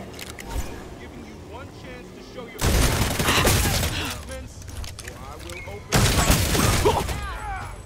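Heavy weapon gunfire in a video game, two loud sustained bursts of rapid shots separated by quieter stretches of game sound, with a voice talking between and over them.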